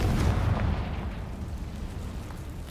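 A Confringo blasting spell explodes in the video game Hogwarts Legacy, a brief low boom at the start that fades into a rumbling tail, close and moderately loud.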